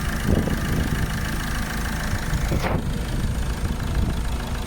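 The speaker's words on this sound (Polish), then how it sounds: "Silnik pracuje, no ładnie pracuje" A van engine with a blown head gasket idles steadily at close range, a constant low rumble with no voices, and a brief swooping whine near the middle.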